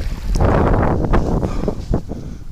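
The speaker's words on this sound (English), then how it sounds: "Of course the wind picked up, guys. It's stronger now than when I came out." Strong wind buffets the microphone outdoors on open water beside a canoe, a loud continuous roar with gusty swells and some rustling, no talking.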